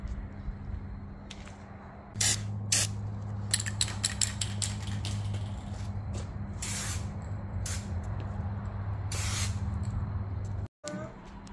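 Spray paint cans coat the front bumper of an Acura Integra in several short, sharp hissing bursts. A steady low hum runs underneath, and the bursts grow slightly longer toward the end.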